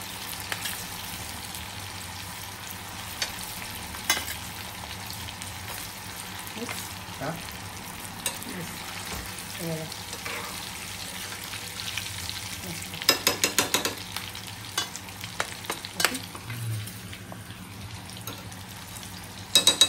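Chickpeas coated in cornflour fry in hot oil, giving a steady soft sizzle broken by scattered pops and crackles that gather toward the end. Someone speaks over part of it.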